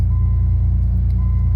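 A 1990 Eagle Premier car engine idles steadily, with a loud, continuous low rumble and a faint steady whine running alongside it throughout.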